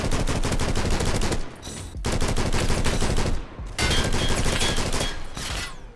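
Rapid automatic gunfire from a gun in the Roblox game Criminality, loud and continuous in long bursts with brief pauses between them.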